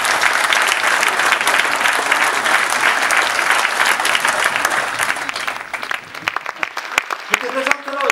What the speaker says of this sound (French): on applaudit encore une fois s'il vous plaît